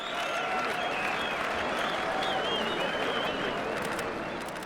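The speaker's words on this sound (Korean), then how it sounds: "경기의 승패가 갈릴 때마다 관중의 환호성이 뒤따릅니다." A crowd cheers and applauds at a Mongolian wrestling match, a steady dense roar of claps and shouts that holds throughout at a moderate distance.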